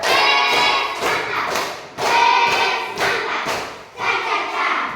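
A class claps in a rhythmic patterned cheer for group presentations, groups of quick claps broken by short pauses, moderately loud and close.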